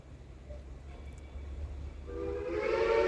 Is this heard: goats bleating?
no